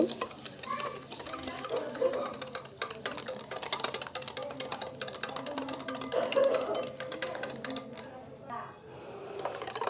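Sugar and salt are beaten together in a bowl for jhuri pitha, a rapid, steady clatter of whisking that runs on with only brief pauses, fairly quiet and close, while a voice talks.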